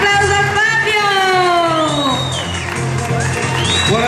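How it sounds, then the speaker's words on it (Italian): A theatre audience bursts into loud, sustained applause with cheering and whoops as a comedy act begins, and voices rise above the clapping. "Un applauso a Fabio!"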